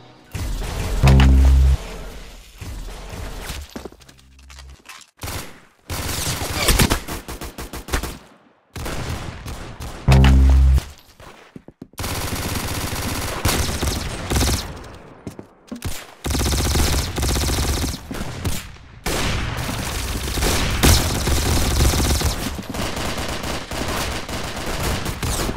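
Gunfire in a shooting video game comes as loud bursts of rapid shots and heavy booming blasts, separated by short silent gaps and then running into a dense, nearly continuous barrage.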